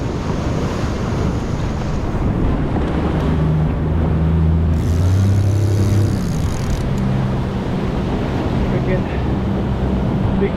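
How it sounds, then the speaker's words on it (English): Heavy surf pounds the shore at Jeffreys Bay during rock fishing for cob, a constant loud roar of breaking waves mixed with wind buffeting the microphone, with a faint engine-like hum in the middle. "Big surf here"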